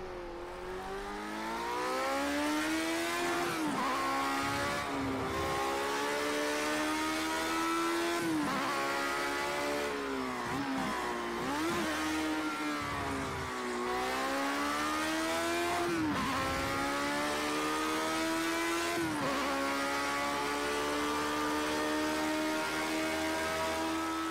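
A race car engine in Project Cars 2, stuck in fourth gear and steadily losing power, drones at high revs around a track, pitch rising and dipping through repeated gear-held sweeps, loud and continuous with no talk.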